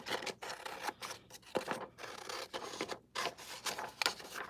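Scissors snip and rasp through paper close up, in quick irregular cuts with short pauses and rustling between them.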